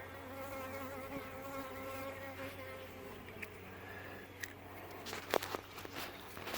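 Honey bees buzz steadily around an open hive while a virgin queen is introduced, a soft continuous drone with a few faint clicks and handling knocks toward the end.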